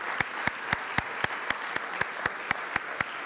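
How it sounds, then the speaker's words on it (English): An audience at a talk on patriotic philanthropy applauds. Loud, evenly spaced claps sound in a steady rhythm over a continuous layer of softer clapping from the room. "let's give them a round of applause"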